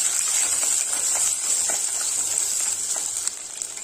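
Fifteen small onions and ten garlic cloves sauté in hot oil in a pan for a Tamil okra tamarind curry, giving a steady close sizzle and hiss throughout with faint stirring clinks and no voices.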